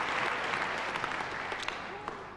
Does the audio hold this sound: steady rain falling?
no